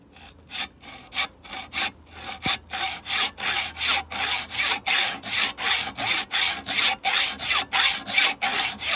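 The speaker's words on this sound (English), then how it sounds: "Okay, cutting these bolts." Hard steel bolts being cut on a rear axle, a close, loud, steady back-and-forth sawing rasp repeating in an even rhythm of roughly two to three strokes per second, alone without any talk.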